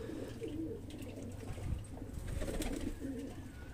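High-flyer pigeon cooing close by, soft repeated low throaty coos in a loose rhythm over faint background rustle, with no talk.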